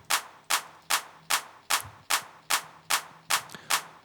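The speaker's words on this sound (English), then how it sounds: "And also some claps right here." Compressed clap samples from an electronic music track strike about ten times in an even rhythm, each a sharp, bright, loud hit with a short decaying tail.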